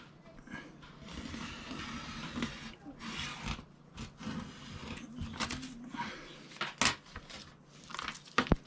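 Carbon fiber vinyl wrap being trimmed off a license plate, close-up: continuous scraping and rubbing with irregular rasping strokes, a few sharp clicks and taps near the end.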